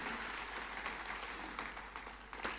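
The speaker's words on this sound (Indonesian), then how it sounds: "Tepuk tangannya boleh yang paling meriah buat Tuhan kita." A church congregation applauds during a sermon, producing steady, faint massed clapping through the whole stretch with no voices on top.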